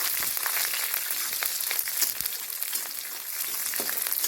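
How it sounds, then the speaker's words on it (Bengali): Garlic and black cumin sizzle in hot oil in a wok, a steady bright crackle with scraping from a spatula stirring, close and continuous. "এখন খুঁটি দিয়ে নেড়ে চেড়ে ভেজে নিচ্ছি।"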